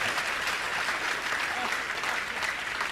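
A seated audience at a religious question-and-answer gathering in Satna, Madhya Pradesh, breaks into steady, dense clapping that holds at an even level throughout, with no voices over it.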